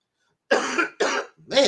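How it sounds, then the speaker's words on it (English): A man gives three harsh, close coughs in quick succession, loud and separated by brief pauses, the last one rougher and more throaty. "Man, this cough."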